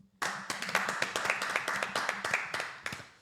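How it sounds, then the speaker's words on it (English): A small group of a few people clapping at the close of a work-from-home podcast episode, with sharp, fairly close hand claps in a quick steady rhythm, heard on their own. "Round of applause"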